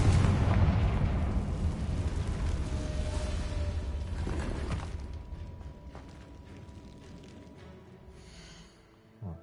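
A Confringo fire spell explodes in the Hogwarts Legacy video game: a loud, broad blast opens and rumbles on for several seconds, then fades into quieter crackling debris and a small late pop.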